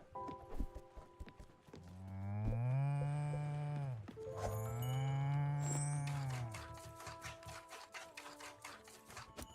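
Two long, loud moos come from a farm cow in Spiritfarer, each a few seconds of drawn-out lowing, followed by a run of quick clicking taps.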